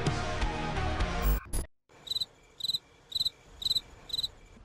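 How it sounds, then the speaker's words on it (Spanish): After a burst of loud, jumbled noise cuts off, a cricket chirps in five evenly spaced, shrill pulses against a quiet background. "Menudo grillo"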